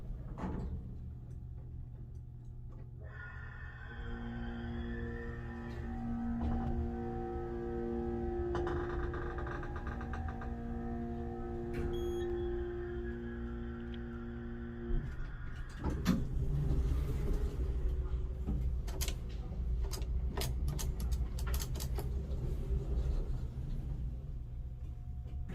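A Noble (formerly Otis) hydraulic elevator at a library starts up, a steady low pump hum and motor drone with tonal whine that shifts partway through into a louder rumbling run with faint clicks, close and continuous.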